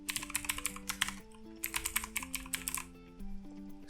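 Rapid typing on a computer keyboard while entering name and email values into a form, with close, crisp key clicks in uneven bursts and short pauses, alongside faint steady tones in the background.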